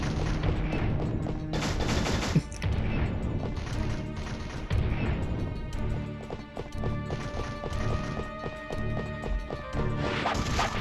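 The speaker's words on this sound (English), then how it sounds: "Poor Alphonse is just getting shot off" Gunfire and cannon blasts in the Fullmetal Alchemist and the Broken Angel video game, a rapid series of sharp cracks and clattering impacts amid game music and effects.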